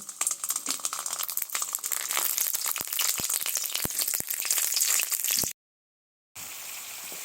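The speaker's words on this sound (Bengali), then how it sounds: "গরম তেলের মধ্যে সেই মাছের পুর করে রাখা ক্যাপসিকামগুলো দিয়ে ভালো করে ভেজে নেব।" Fish-stuffed capsicums fry in hot oil with a steady, dense sizzle and scattered crackles and pops, close and loud, broken by a brief silent gap before the frying resumes.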